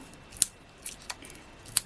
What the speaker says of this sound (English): We will need those scissors again in a minute, but for now we'll pop those away.